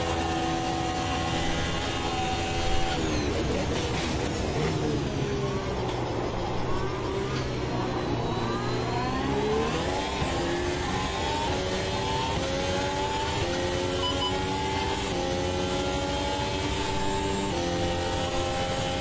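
A New Formula Ultimate gen 2 race car engine screams continuously in the Automobilista 2 sim racing game, its pitch sweeping up and down through gear changes, loud and close, with other cars droning alongside.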